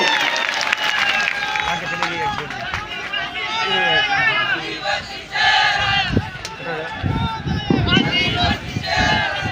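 A crowd at a Bharat Adivasi Party foundation day rally roars a welcome for a speaker, with loud cheering, shouts and clapping sustained throughout as a large gathering.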